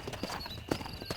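Horse hooves clip-clop in Red Dead Redemption 2, a handful of quick, close strikes in an uneven rhythm over a brief stretch.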